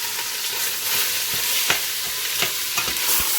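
Italian sausage browns in olive oil in a pan, giving a loud, steady sizzle and crackle with occasional sharp pops and scraping stirs, close up and without talking.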